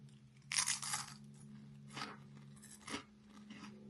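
M&S crisps crunched in the mouth: one loud bite followed by two shorter crunches, close and distinct against a quiet background.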